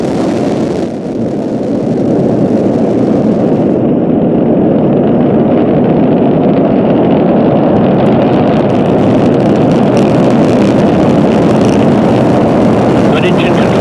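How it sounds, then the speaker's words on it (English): Orion spacecraft rocket liftoff at dawn, a loud, continuous broadband engine roar that holds steady and thick throughout, with a launch commentator talking over it. "5, 4, 3, 2, 1. And liftoff at dawn."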